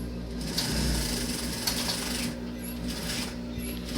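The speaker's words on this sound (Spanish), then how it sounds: "se está embonando la pretina y se está pisando por el derecho de la tela" A sewing machine stitching a skirt waistband from the right side of the fabric, a steady mechanical whir with light ticking and rattling, close and continuous, without talk.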